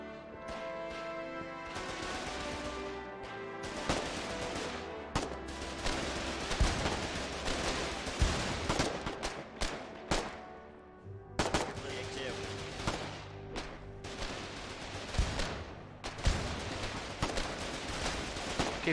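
Gunfire in the video game Foxhole, dense machine-gun bursts and rapid rifle shots rattling almost continuously, loud and close, with scattered heavier impacts and a voice talking at times.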